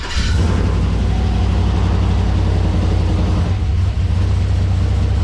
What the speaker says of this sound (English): First start of the Huron Speed Turbo Kit in 3, 2, 1.